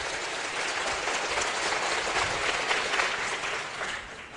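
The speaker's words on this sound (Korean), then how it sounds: "우리 하나님께 감사의 영광 박수를 힘차게 하고 합시다" Steady, full applause from a church congregation giving thanks, a broad wash of many hands heard at a distance and sustained evenly throughout before easing slightly at the end.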